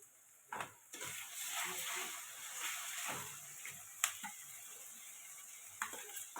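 Garlic goes into hot oil in a pan, giving a soft frying sizzle broken by a few sharp clacks and stirring knocks, fairly quiet and with no speech.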